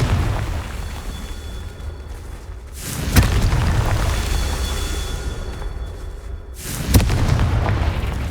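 Two booming Confringo blasting-spell explosions in the Hogwarts Legacy video game, each a sharp, loud burst about four seconds apart over a rumbling game soundscape.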